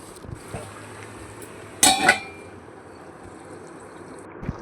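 A metal lid clangs onto a pot of spicy mutton gravy in one brief, bright clink against a quiet kitchen background with faint bubbling.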